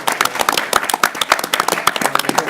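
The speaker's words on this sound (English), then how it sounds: "Let's give our speaker, Ambassador Dobbin, a round of applause" Audience applause at a symposium following an ambassador's talk, with dense, steady clapping from a fairly close indoor crowd throughout, no voices over it.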